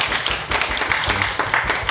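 Audience clapping for an announcer at a film director's talk event after a screening, a steady patter of many hands close by, continuous for about two seconds with a few louder claps mixed in.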